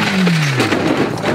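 A motorcycle engine revs hard as the throttle is snapped open abruptly. It is one loud, close burst of engine roar that falls and swells again, with no speech.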